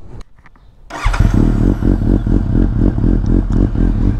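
A Suzuki GSX-S 750 motorcycle with a 750cc inline-four engine cranks briefly, then fires up into a loud, close, throbbing idle with a rhythmic pulse and slight revving.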